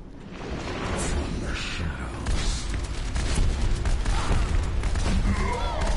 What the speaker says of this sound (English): stand there in one spot while I shoot rockets at you